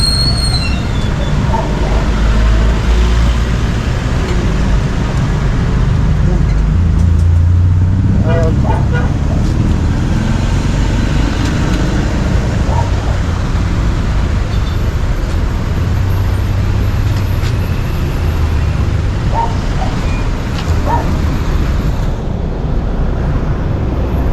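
A car reversing in heavy Philippine road traffic, with a steady low rumble of engines and road noise throughout and people talking over it.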